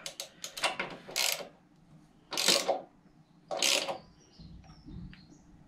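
A ratchet on an extension bar tightening the spark plug on a Mountfield SP454 140cc petrol lawnmower: quick clicking ratchet strokes in short bursts, three main loud pulls with pauses between, close up and alone.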